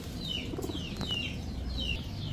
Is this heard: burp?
no